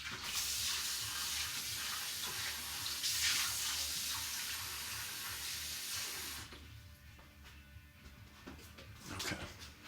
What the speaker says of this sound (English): let me just refill this bowl real fast